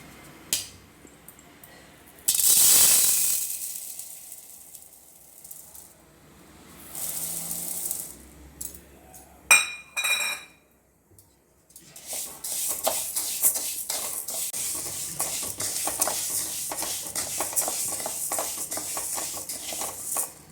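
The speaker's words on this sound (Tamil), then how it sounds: "இப்போ ஒரு கடாய் வச்சு இந்த உளுந்தை வறுத்து எடுத்துப்போம்" Urad dal being dry-roasted and stirred in a kadai, with a loud rattling scrape early on, scattered clinks and shuffles, then a steady close-up rustle of grains moving against the metal pan.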